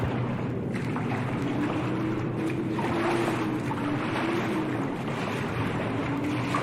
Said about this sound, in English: Get into the kayaks and paddle after them!